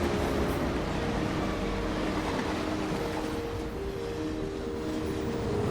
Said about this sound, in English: Indian trains chug over oceans,